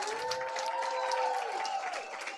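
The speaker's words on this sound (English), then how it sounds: "Let's go, one more applause." Scattered applause from a crowd, moderately loud, with whoops and cheering voices rising and falling over the clapping.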